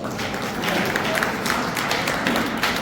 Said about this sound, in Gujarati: બધા મહેન્દ્રભાઈ માટે એકવાર તાળીઓ પાડો